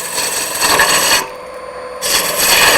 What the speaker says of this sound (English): I'm using the outer edge of this roughing gouge to get up in right near the